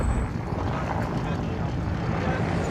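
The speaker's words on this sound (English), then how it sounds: "Attack helicopter, yeah?" An attack helicopter flying over a combat zone in Afghanistan produces a continuous, moderately loud rotor and engine drone that holds steady throughout, with no talking over it.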